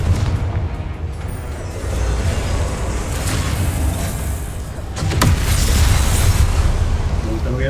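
Confringo blasting curse from Hogwarts Legacy bursting with a loud, sustained roaring rumble that swells sharply near the end, a heavy explosive wash over a game soundscape with a voice shouting the spell.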